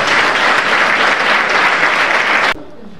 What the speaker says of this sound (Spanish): un fuerte aplauso para vosotros